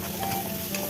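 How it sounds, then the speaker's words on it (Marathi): Chopped onion frying in a hot pan gives a steady, close sizzle with light crackle throughout a brief moment, no voices. "कांदा लालसर होईपर्यंत जरा फ्राय करून घ्यायचं"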